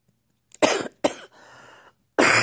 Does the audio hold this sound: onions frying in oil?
no